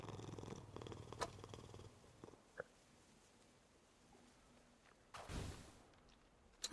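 A cat purring in the video game Hades 2, a soft steady low rumble running through the first couple of seconds amid quiet game sounds, with a brief louder burst of noise later.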